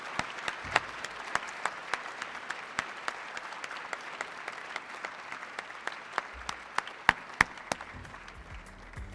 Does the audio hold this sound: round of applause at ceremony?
yes